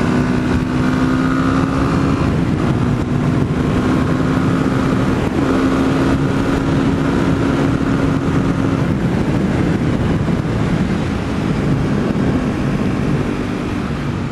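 Yamaha WR250X motorcycle being ridden, a steady buzzing engine drone mixed with constant wind rush, its pitch stepping through a few gear changes, loud and close with no talk.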